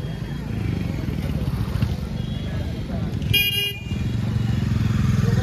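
Busy street in the Karol Bagh bike market of New Delhi, lined with Royal Enfield and KTM motorcycles, with engines running and a short horn toot midway over a steady crowd murmur and talking voices.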